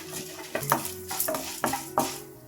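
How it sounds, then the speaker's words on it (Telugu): Urad dal and chana dal fry in hot oil in a pan with a steady low sizzle, broken by a few scraping stirs of a spoon, close up and without talk. "1 టీ స్పూన్ మినప్పప్పు, 1 టీ స్పూన్ శనగపప్పు, ఇవన్నీ ద్వారగా వేయించుకోవాలి."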